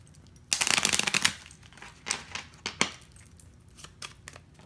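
A deck of cards riffled in a quick burst, followed by several softer snaps and shuffles, close and alone without talk.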